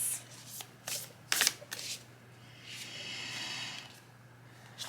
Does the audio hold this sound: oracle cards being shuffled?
yes